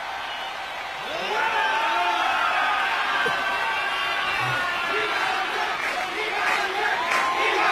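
Baseball stadium crowd turning from booing to applause, a broad wash of clapping and cheering that swells after a quieter first second and holds as a dense, distant roar with scattered shouts.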